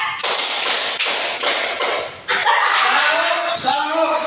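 Hand claps in a classroom counting game, rendered as a run of sharp, evenly spaced claps from a group that grows into a longer burst, with some chuckling mixed in.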